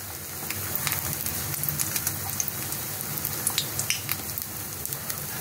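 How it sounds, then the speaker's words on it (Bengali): Aubergine slices coated in batter fry in shallow oil with a steady, close crackling sizzle and scattered small pops, continuous throughout with no talking. "এখন আমি বেগুনগুলো এই ব্যাটারটায় চুবিয়ে ভেজে নেব"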